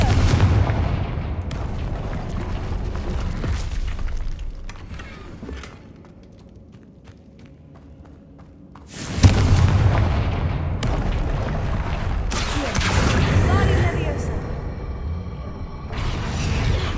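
Fire-spell explosions in the game Hogwarts Legacy, a loud booming blast with a rumbling fiery tail, a quieter lull, then a second sharp explosion and crackling rumble, with no talk.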